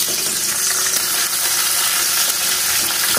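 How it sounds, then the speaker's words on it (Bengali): Cut bitter gourd pieces fry in hot oil in a kadai, a loud, dense, steady sizzle that hisses evenly throughout with no talking. "প্রথমে করলাগুলোকে ভালো করে ভেজে দেবো।"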